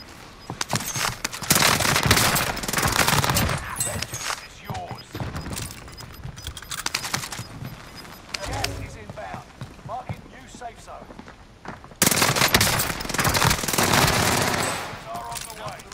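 PPSh submachine gun fire in a video game, loud bursts of rapid automatic shots in several clusters, with game noise and a player talking over the action.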